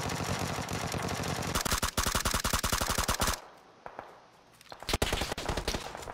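Automatic gunfire sprays in the PUBG video game, rapid loud bursts of shots in a fast rhythm, then a brief quieter gap before a few more single and clustered shots.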